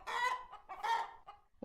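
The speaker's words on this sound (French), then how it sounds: "désolé la poule." A hen from the Minecraft Animania mod gives two close, clear clucks in quick succession, followed by a softer short cluck and a faint click at the end, with no talk over it.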